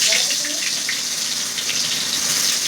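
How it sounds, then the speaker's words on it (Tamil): Small onions dropped into a little hot oil in a pan, giving a steady, close sizzling hiss that runs unbroken throughout with no talking. "சின்ன வெங்காயம் போட்டுக்கலாம்."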